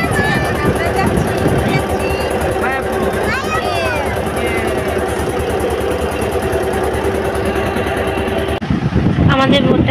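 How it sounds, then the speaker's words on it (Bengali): Motorboat setting off from the bank and crossing the Ganges river, its engine a steady low drone running throughout, with people talking over it nearby. "আমাদের বোট ছেড়ে দিয়েছে, এখন আমরা যাচ্ছি।"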